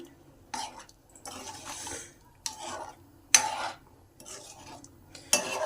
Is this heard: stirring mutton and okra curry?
yes